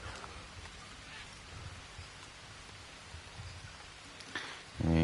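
Steady rain in a survival video game hisses and patters with a faint distant rumble of thunder; near the end a loud low droning tone cuts in.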